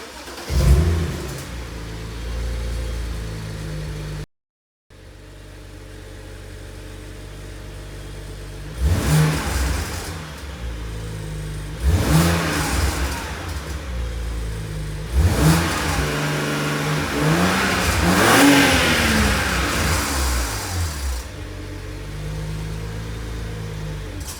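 A BMW car engine with its exhaust flap deleted cranks and catches, then settles before a series of sharp revs rising and falling, each burst louder, heard from nearby while in park.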